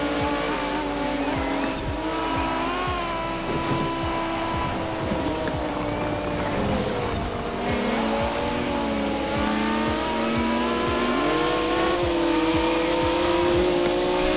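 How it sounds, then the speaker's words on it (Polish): A BMW M4 engine in Forza Horizon 4 revs and roars continuously, its pitch rising and falling as it accelerates, loud and steady throughout. "ta M4 jest bardzo nieproporcjonalnie głośna w stosunku do innych samochodów BMW nawet"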